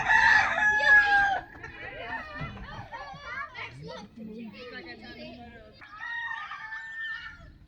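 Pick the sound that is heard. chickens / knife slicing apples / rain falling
chickens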